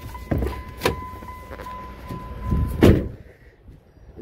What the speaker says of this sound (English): Let me just pop the hood